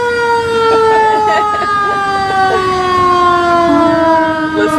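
A police car siren whines loud and steady close by, a sustained rising and falling wail with many layered tones, with faint voices in the background.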